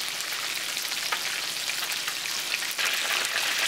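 Swai fish fries in hot oil, giving a dense, steady sizzle and crackle with scattered pops, close and loud with no voices over it.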